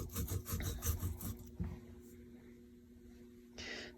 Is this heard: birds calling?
no